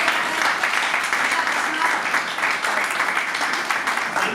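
Applause from an audience at a Hindi poetry gathering held for a birthday, loud and continuous from start to finish, with a speaker's voice faintly mixed in.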